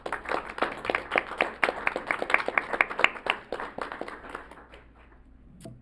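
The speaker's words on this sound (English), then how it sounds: "we should just give them a round of applause" A crowd at a city council meeting applauds, dense clapping from many hands that holds steady for several seconds, then thins out and fades away toward the end.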